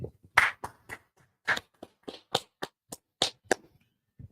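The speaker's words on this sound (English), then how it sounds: "let's clap it up" A religious class claps together in loose, uneven bursts of sharp, close hand claps, a dozen or so spread over about four seconds with short gaps between them.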